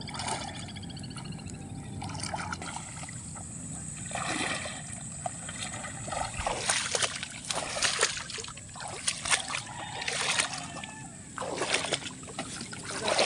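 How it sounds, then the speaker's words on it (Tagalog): Fisherman wading through muddy water, repeated sloshing and splashing steps with trickles and drips at close range, continuous and irregular, with some background voices. "Hirap maglakad sa tubig."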